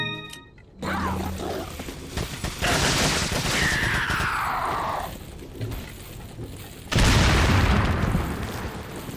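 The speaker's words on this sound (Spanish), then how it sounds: "La explosión está muy bien hecha." Booming, roaring blasts rumble through a noisy game soundscape, with a sweeping whine in the middle and a heavy explosive burst near the end.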